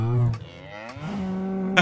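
A cow in the video game Minecraft Dungeons gives a few low, drawn-out moos, clear and close over a quiet game background.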